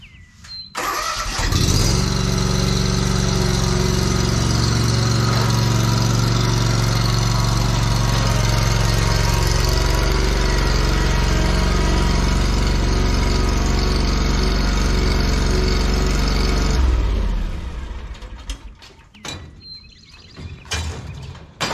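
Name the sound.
lawn mower engine running while loaded into truck bed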